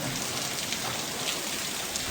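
Heavy rain pours outside a farsan snack shop in Nadiad, a dense and steady hiss of drops striking surfaces, loud and continuous with no talk.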